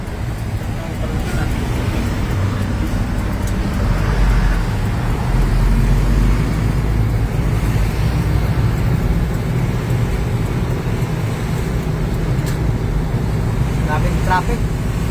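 Steady road traffic rumbles through San Fernando, a loud continuous drone of passing cars and engines close by, with faint voices briefly under it.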